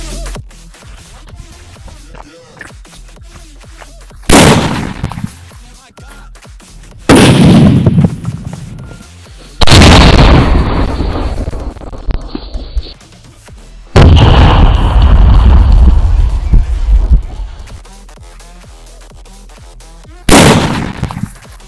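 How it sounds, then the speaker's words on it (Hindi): Small sutli firecracker bombs burst inside a water-filled bag, giving several loud, sharp blasts spaced a few seconds apart, each trailing off in a splashy, rumbling decay, with quieter rustling between them. "इसके अंदर हम लोग फोड़ने वाले नारजी सुतली बम जो छोटे वाले आते हैं यही वाले हम लोग अभी इसके अंदर फोड़ेंगे"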